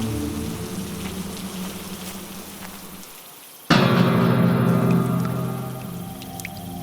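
Steady rain pours down outside a village, a dense hiss of drops that cuts out briefly and then returns suddenly, heavier and louder, drumming on through the rest.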